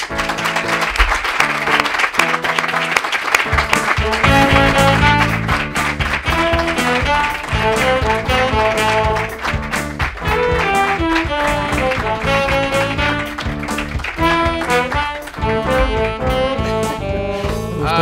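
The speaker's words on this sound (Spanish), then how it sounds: "Un aplauso para él" Studio audience on a Spanish comedy talk show applauds guest Gonzo, the clapping running under loud, bright music throughout, with sharp hand strikes poking through the steady musical backing.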